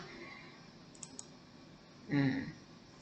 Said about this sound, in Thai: แล้วก็ คลิกที่เซลล์ที่ต้องการได้เลยนะคะ